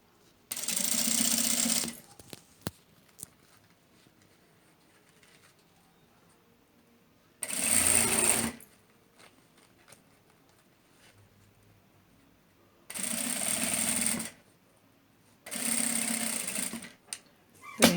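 A sewing machine stitches bias binding to hold a zipper onto a fabric trunk bag, running in four loud bursts of rapid, steady needle clatter of one to two seconds each, separated by quiet pauses with faint handling noises.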